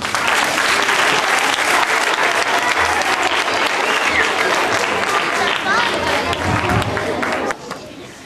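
Enthusiastic applause from a concert audience after a Christmas concert lullaby performance, a dense, loud, continuous clapping that fills the space and then drops off sharply near the end.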